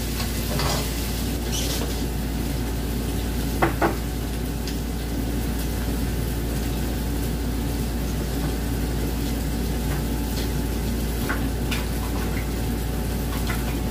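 Chopped tomatoes cook in a pan for ginataang malunggay, giving a steady, soft sizzle with occasional stirring scrapes and clinks, close and continuous with no talking.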